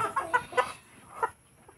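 A native chicken gives a few short, close clucks in quick succession, then one more cluck after a brief pause, fading into quiet.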